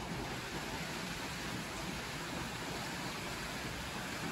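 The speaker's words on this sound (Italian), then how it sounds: "Sta piovendo, si sente?" Steady rain falling outdoors, a dense even hiss of drops on surfaces that is moderately loud, continuous and unbroken with no voices.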